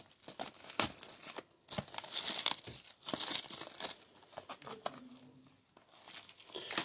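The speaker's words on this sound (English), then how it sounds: "It's quite tightly wrapped. So I'm just gonna cut into it like that." Plastic wrap on a Weiss Schwarz Disney 100 booster box being cut and torn open, close-up crinkling and tearing in irregular bursts.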